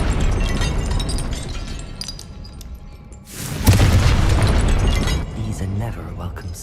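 A Confringo spell from the Hogwarts Legacy video game bursts into a loud, close explosion with a sharp onset and rumbling tail, amid busy combat sounds and a voice speaking.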